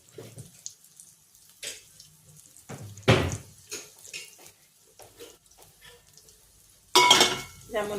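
Green peas, tomato and spring onion fry in a wok with their juices, giving quiet intermittent bursts of sizzling and stirring scrapes separated by near-silent pauses, the loudest burst near the end.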